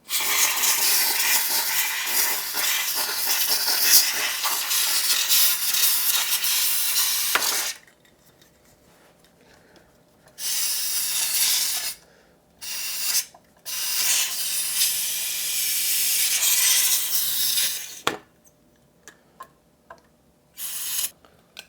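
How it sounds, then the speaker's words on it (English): Aerosol can of WD-40 contact cleaner sprayed onto a radio tuner, a loud steady hiss running about eight seconds, then several shorter bursts after pauses, alone with no talking. "that's the can of the WD-40 contact cleaner, so now no one can freak out over how I just sprayed my tuner with WD-40"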